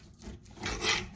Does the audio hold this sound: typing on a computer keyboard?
no